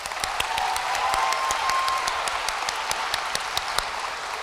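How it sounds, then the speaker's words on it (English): Sustained applause fills a school awards assembly hall, dense steady clapping from a large audience of students and families with sharp individual claps standing out, continuous and fairly loud without letting up. "one more round of applause"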